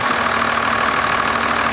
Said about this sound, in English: Yes, it sounds like a diesel, both at the front and the back.